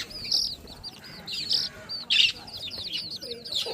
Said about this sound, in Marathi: सुंदर असे पक्षी आहेत इकडे.